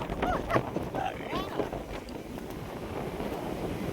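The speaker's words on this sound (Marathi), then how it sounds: "असा सुसाट सुटलाय वारा" Strong wind gusting at the coast near Guhagar, buffeting the microphone as a steady low roar with rougher bursts early on; faint voices and clatter sit under it.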